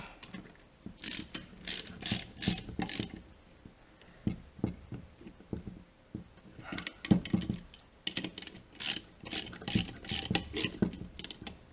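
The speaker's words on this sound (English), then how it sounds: "putting it back together with a ratchet" A hand ratchet clicks in repeated quick bursts while a socket threads a part back together during a repair, the pawl chatter close and crisp with short pauses between strokes, no talking.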